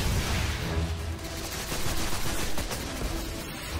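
Enemy fire in Destiny pours in as a continuous rattling stream of gunshots over dense battle noise. The volume stays loud and steady throughout with no clear pauses.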